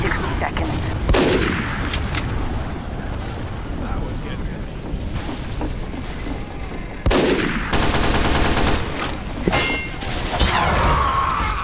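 Dense gunfire and explosions in the video game Team Fortress 2, with continuous loud rapid shots and blasts in heavy bursts, loudest in the second half.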